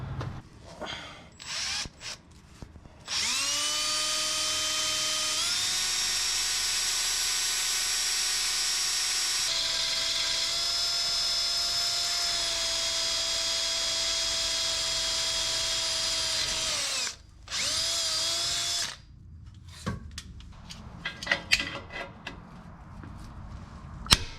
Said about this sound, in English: Let's just use the dullest drill bits I have